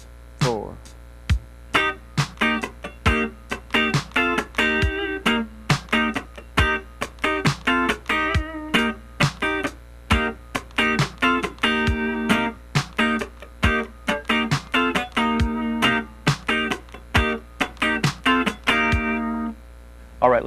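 A funk rhythm guitar part is played slowly and cleanly, with steady percussive chord stabs and muted chanks repeating in an even groove for the whole stretch, close and alone.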